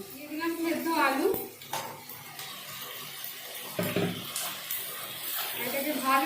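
Boiled potatoes go into a pan of softened, cooked cauliflower in a Bengali home kitchen. A few dull thumps and utensil clatters against the pan stand out over a quiet, low background.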